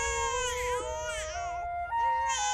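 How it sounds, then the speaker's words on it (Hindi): An infant cries loudly and continuously in drawn-out wails, close by, with a brief catch of breath before the crying resumes. "बच्ची बहुत टाइम से रो रही"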